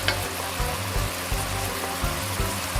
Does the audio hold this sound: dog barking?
no